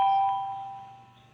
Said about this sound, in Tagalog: ito yung doorbell, no?